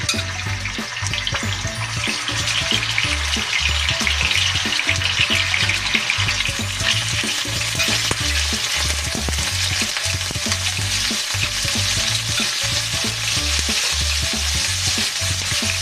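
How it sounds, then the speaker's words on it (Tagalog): Chicken pieces half-cooking in hot oil in a pan, a loud steady sizzle and crackle running the whole way through with no voices. "Ngayon naman po ay ipifried natin muna natin yung ating chicken"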